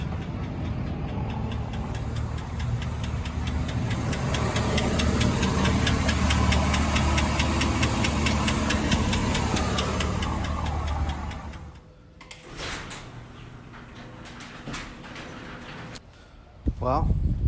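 Idling car engine with a ticking knock, a fast rapid tapping over a dense rumble that runs loud for about twelve seconds before cutting off, leaving quieter handling noises and a sudden bang near the end.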